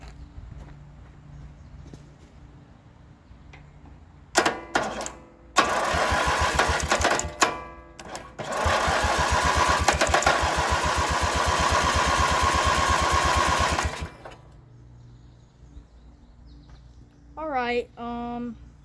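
Small lawn mower engine starting up and running in a shop, a loud steady rumble lasting several seconds after a few brief sputtering bursts, then cutting off; a voice speaks briefly near the end.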